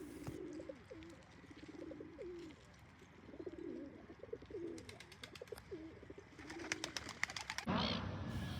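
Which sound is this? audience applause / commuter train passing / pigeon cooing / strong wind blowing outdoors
pigeon cooing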